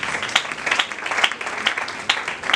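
A church congregation applauding loudly for the Lord, dense sustained clapping from many hands with scattered louder claps, close and continuous throughout.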